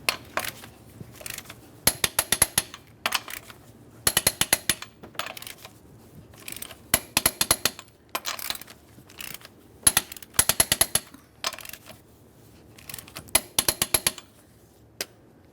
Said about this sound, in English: We'll be torquing each one of these lug nuts to 115 in a crisscross manner